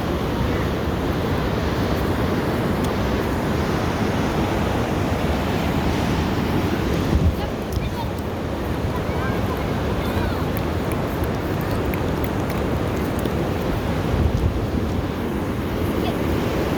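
Ocean waves washing in at a California beach, a continuous broad roar of surf with heavy wind buffeting the microphone, loud and unbroken, with faint voices mixed in.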